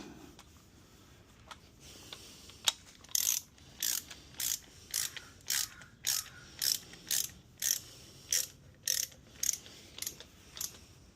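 Ratchet tightening a 19 mm bolt on a 2007 Ford Mustang 4.0 engine, about a dozen evenly spaced clicking bursts in a steady rhythm, close and clear, after a few softer scattered clicks.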